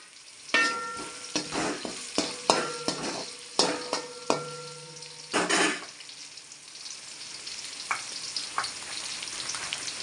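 Garlic fries in a metal pan for mutton curry. A spoon scrapes and clinks against the pan in a quick series of stirs, then a softer, steady sizzle continues alone.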